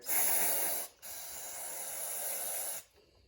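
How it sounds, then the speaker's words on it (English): Two long bursts of aerosol spray hiss loudly and steadily into snowblower engine parts, separated by a brief pause, then stop. "I'm going to spray these out real quick"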